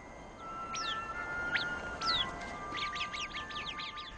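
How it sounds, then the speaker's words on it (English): Small Arabian birds in a hot, dry desert land give a series of high, quick chirps and whistled calls, a few spaced notes and then a busier run of overlapping tweets over a steady faint background hiss. "This little creature, known as the Arabian bird, manages to survive in this difficult environment."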